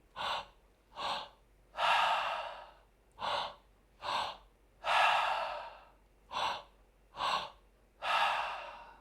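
Deep breathing exercise: loud, close breaths repeat in a regular pattern, two short sharp inhales followed by a long audible exhale, cycling three times with quiet pauses between.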